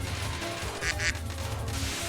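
A voice imitates a duck's quack, two short nasal quacks in quick succession over steady background game music and noise during a livestream.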